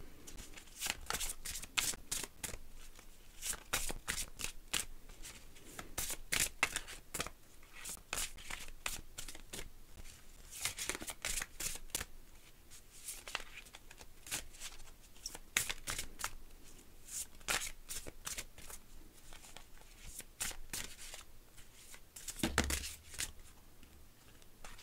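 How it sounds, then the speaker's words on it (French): Oracle cards shuffled by hand in a steady run of crisp riffling bursts, close and fairly loud, with no talking over them. "Je vais vous tirer une carte de l'oracle de Tchécoli pour un petit message conseil"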